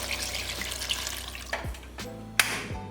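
Water pours into a pot for Korean chicken stock, a running splashy stream with a few clanks and bumps, close by and without voices.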